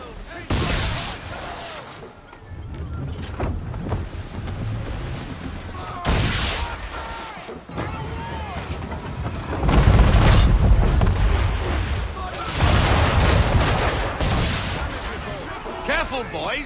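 Ship cannons boom in Assassin's Creed III during a naval battle, with repeated loud volleys and rumbling blasts in irregular bursts, mixed with crew shouting and voices over the gunfire.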